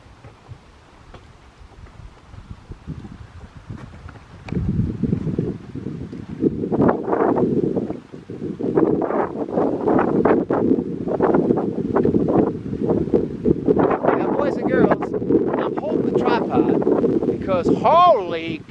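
Strong wind on Wallis island in Oceania buffets the microphone in heavy, continuous gusts that grow louder after a quieter start, with a brief voice-like sound at the end.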